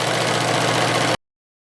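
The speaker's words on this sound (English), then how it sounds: "I'm just going to go ahead and sew a straight seam all the way down, attaching both these pieces" A sewing machine running a straight seam that joins two pieces of quilt-backing fabric, giving one steady, close motor whir that holds for about a second and then stops abruptly.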